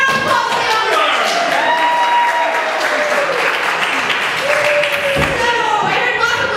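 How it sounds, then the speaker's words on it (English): Theatre audience applauding at the end of a ten-minute play, steady close-miked clapping filling the whole stretch while a voice speaks over it. "And a round of applause for the audience."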